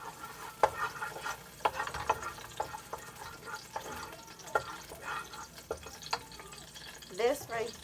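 A wooden spoon stirs chili in a crock pot insert, giving soft scraping knocks and wet sloshing at irregular intervals, close and moderately loud, with a faint voice now and then in the background.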